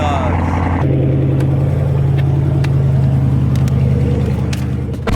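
A 2020 Dodge Charger Scat Pack engine catches and settles into a loud, deep, steady rumble, close by and filling the whole moment, with a few faint clicks over the top.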